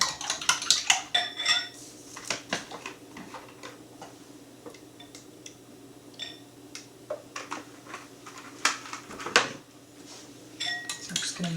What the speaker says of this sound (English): I'm going to blend this with about 2 tablespoons of oil.